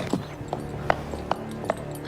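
A horse's hooves clip-clop at an easy walking pace, about five sharp, evenly spaced strikes on firm ground, fairly close, with faint background ambience.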